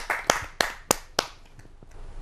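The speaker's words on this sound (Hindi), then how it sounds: "आपकी एक जोरदार तालियों से।" A few people clapping for a poet at a Hindi kavi sammelan on a TV show, several sharp separate claps close together that quickly trail off into faint, scattered taps.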